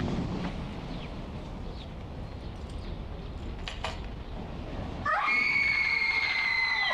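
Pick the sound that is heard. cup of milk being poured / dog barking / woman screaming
woman screaming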